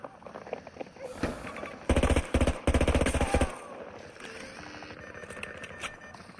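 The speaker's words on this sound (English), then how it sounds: "Good old tap fire." Gun in Battlefield 2042 fired in short controlled bursts, loud and close, several clusters of rapid shots separated by brief pauses amid game ambience.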